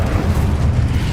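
The Incendio fire spell cast in the video game Hogwarts Legacy gives a loud, roaring, rumbling whoosh of flame that holds steady and dense for its whole short length.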